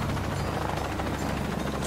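A helicopter in the video game Shadow of the Tomb Raider gives off a steady whirring, chopping drone at close range that holds unbroken and fairly constant throughout, with no talking over it.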